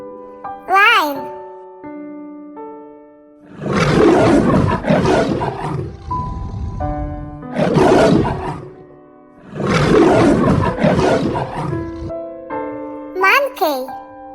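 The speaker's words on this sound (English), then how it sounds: "Lion." A lion roars loudly in several long, rumbling bursts between short musical chimes, as in a toddler song about animal sounds, with childlike vocal touches around the roars.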